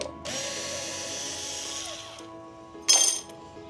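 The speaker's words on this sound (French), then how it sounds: "il faut juste se munir d'un tournevis ou d'une visseuse électrique, ça va un petit peu plus vite" Electric screwdriver whirs steadily for about two seconds while backing screws out of furniture handles on a solid wood cabinet, then a brief sharp burst follows; close and fairly quiet.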